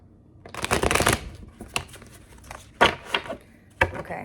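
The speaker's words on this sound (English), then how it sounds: "I'm gonna shuffle them all in because I'm feeling called to do that as well" Tarot cards being shuffled by hand, a long riffling burst followed by several shorter shuffles and taps, close and crisp with brief pauses between.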